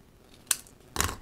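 Two short, crisp snips from scissors trimming a paper card, close and clear, with the second cut slightly longer and louder.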